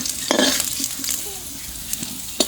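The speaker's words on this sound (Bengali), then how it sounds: "আলু আর গাজরটা খুব সুন্দর করে ভেজে নিয়েছি" Fried potato and carrot pieces are stirred in a pan, making a soft continuous sizzle broken by a few scraping strokes and light clinks of the spatula.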